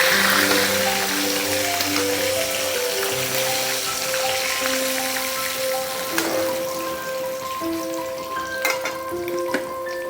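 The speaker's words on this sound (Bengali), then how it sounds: "ঝুলের মাছ বেশি কড়া করে ভাজতে নেই তাই এরকম ভাজা হলেই চলবে" Fish pieces frying lightly in oil for a curry, a continuous moderate sizzle with a few sharper pops near the end, faint sustained background tones underneath.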